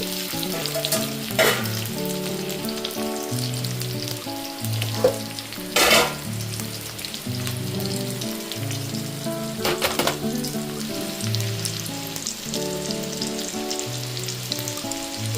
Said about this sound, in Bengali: জিরে ফোড়ন দিয়ে পেঁয়াজ কুচি দিয়ে দিলাম। এবার একটু ভাজতে থাকবো।